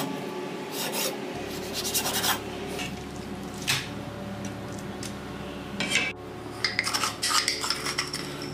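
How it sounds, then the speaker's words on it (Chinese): A knife cuts fish into thick slices for sour soup fish, giving soft, irregular scraping and rasping strokes on a board with a few sharper clicks, fairly quiet and close. "鱼我们把它切片啊， 把它切成像这样子厚厚的薄片"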